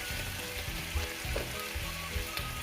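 Celery and snow peas stir-fry in a hot pan for pancit canton, a steady hiss of sizzling with soft periodic stirring scrapes, close and fairly quiet, no talking.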